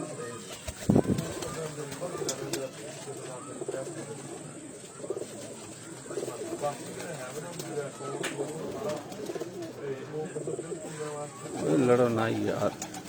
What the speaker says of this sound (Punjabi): ਇਹ ਰੈਡੀ ਬਰੀਡ ਦਾ ਕਬੂਤਰ ਹੈ ਜੀ।